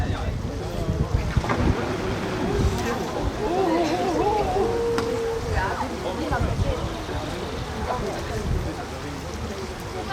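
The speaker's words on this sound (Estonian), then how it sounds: "Kardo teeb meile veel siis natukene külma tuult" Artificial cold wind blown by a machine at a hobby school graduation, a loud continuous rushing gust with rumbling buffeting, while people talk and call out over it.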